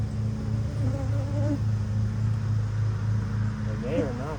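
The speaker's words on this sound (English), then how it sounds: "There's a ton of bees." Honeybees buzz densely around an open hive with no honey during an inspection, a loud, steady drone close by with a few sharper whines rising near the end, while someone talks over it.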